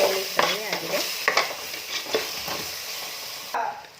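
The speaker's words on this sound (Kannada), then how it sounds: "ಈಗ ಇದು ಚೆನ್ನಾಗಿ ನೀಟಾಗಿ ಎಣ್ಣೆಯಲ್ಲಿ ಫ್ರೈ ಆಗಿದೆ." Spices fry in oil in a pan for a spinach pulao, a soft sizzle under several close scraping stirs of a spoon against the metal, loudest at the start and easing off.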